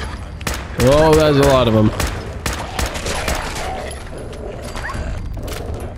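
Gunfire ripping into enemies in Fallout 4: a scattered series of sharp shots and impacts under a voice, with a brief tonal cry early on and sporadic bangs continuing afterward.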